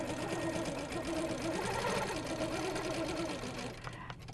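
A sewing machine double stitching across the top of a quilting piece, a fast, even mechanical whir with rapid needle pulses running steadily before cutting off near the end.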